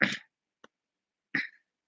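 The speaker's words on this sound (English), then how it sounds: "excuse me, I'm coughing now" Two short, sharp coughs separated by a pause, with a faint click between them, close and otherwise quiet.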